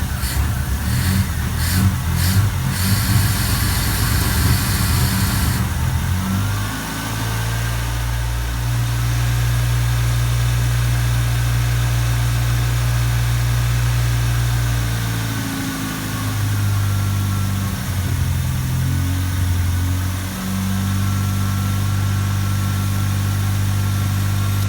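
A Saturn car engine fed by a lawnmower carburetor mounted in the trunk cranks with clattering noise, then catches and settles into a loud, steady idle with a low droning hum, briefly surging and rising in pitch before returning to idle.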